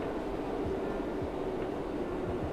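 Modded train sounds from the Train Sim World 4 video game, a passenger train's low steady rolling rumble, fairly quiet and continuous with no speech.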